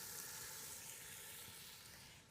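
Chopped onion sizzles as it hits a hot pan of mostly cooked ground beef, giving a steady, bright hiss that holds evenly throughout.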